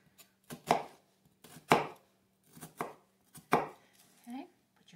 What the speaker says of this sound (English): 2 onions ready to be chopped